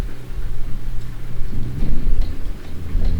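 Thunder rumbling during a thunderstorm in Euro Truck Simulator 2, a deep continuous low roll with rain texture, swelling midway and staying steady and fairly loud throughout, with no talking.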